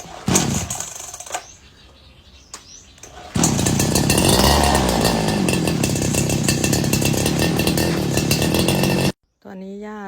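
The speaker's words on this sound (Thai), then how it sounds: "เครื่องตัดหญ้าค่ะเดี๋ยวเราจะตัดเองเลยนะคะ" Gasoline grass trimmer cutting overgrown tall grass; after a few seconds of quieter sound with a voice, a loud buzzing two-stroke whine starts up and holds steadily close by, then cuts out suddenly near the end.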